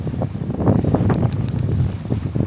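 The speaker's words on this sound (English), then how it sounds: "Man, this wind is no good." Strong wind buffets a microphone on a roadside during a long bicycle ride, a loud, continuous rumbling roar with gusting surges and no voices.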